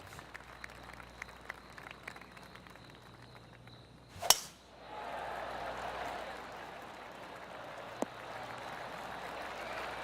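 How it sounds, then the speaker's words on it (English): Polite, sparse clapping from a small golf gallery rises after a sharp strike at the 8th hole, then settles into a soft, steady patter over low outdoor ambience. "Oh, golf clap."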